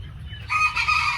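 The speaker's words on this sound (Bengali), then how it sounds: "এই যে প্রচুর পরিমাণে মুরগি এখানে রয়েছে।" Chickens on a poultry farm in Brahmanbaria, Bangladesh, cluck and crow in a short, close burst, with a rooster-like call rising over the flock's low murmur.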